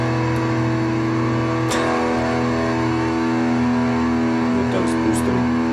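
Electric guitar through a Victor Custom Scream Boost tube preamp with the boost off, heard as a steady, dense sustained tone with a held chord and constant level throughout.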